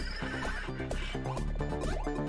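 A horse in Cyberpunk 2077 neighs and whinnies loudly up close while its hooves clip-clop in a quick running rhythm, with no talk over it.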